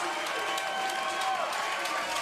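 Baseball crowd at West Beach roaring and applauding after a hit, a dense sustained cheer with clapping, loud and continuous for the whole moment.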